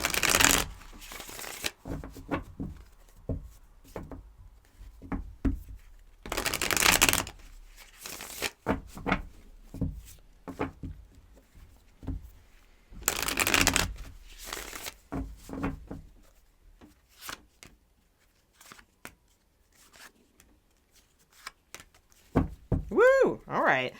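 Tarot cards being shuffled up close, several bursts of riffling and crisp card slaps separated by quiet pauses, with a voice talking in places.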